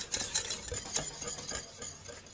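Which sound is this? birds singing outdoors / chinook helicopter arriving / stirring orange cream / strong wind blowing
stirring orange cream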